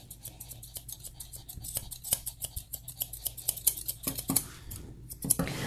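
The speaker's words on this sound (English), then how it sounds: "These are affordable grooming shears. This is the Eliminator series." Eliminator series grooming shears snipping through a dog's coat, a quick run of crisp, close metallic snips in a steady irregular rhythm, growing denser and sharper toward the end.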